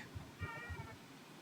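Roxy, a tortoiseshell cat, gives a short, faint meow over low background rumble.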